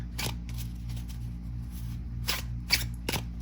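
Tarot cards are shuffled close by, with a few quick riffling bursts and soft card slaps over a quiet low hum.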